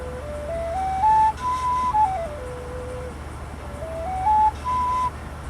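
A handmade Native American flute with a full-hole whistle plays a short stepped melody of clear sustained notes that rise and fall, sounding alone and close with no talking.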